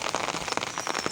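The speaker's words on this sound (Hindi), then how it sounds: "बारिश है और मौसम अच्छा है" Rain falls on flowering plants outdoors, a steady close patter of drops on leaves and petals with a continuous hiss and no voices.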